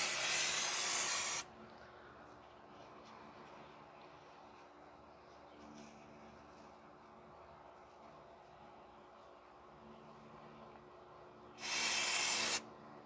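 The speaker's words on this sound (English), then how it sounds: "I don't want to get brake cleaner inside the engine, so I just want to spray a sparing amount" Brake cleaner sprays in two short bursts on a 2009-2013 Toyota Corolla 1.8 L 2ZR-FE engine, a loud sharp hiss at the start and again near the end, with quiet shop ambience between.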